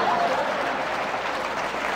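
A seminar audience applauds a leadership speaker, a broad even wash of clapping from a crowd, moderately loud and sustained throughout with no voices over it.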